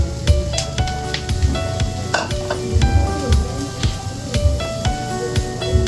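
Aligasin (banak) fish frying in an oil-filled pan for sisig, a loud close sizzle and hiss with popping spatters and occasional clinks of a utensil throughout.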